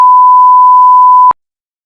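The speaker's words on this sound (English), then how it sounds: "I'll do a beep over her name." A steady electronic censor bleep, a single pure tone held for about a second and a quarter that cuts off abruptly, loud and alone with nothing else audible.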